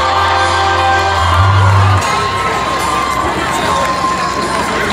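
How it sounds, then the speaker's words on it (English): An audience at a country music show honoring farmers claps and cheers, a loud continuous wash of applause, shouts and whoops filling the space without pause. "Jess, Chris, and Natalie, give them a nice round of applause if you would, please."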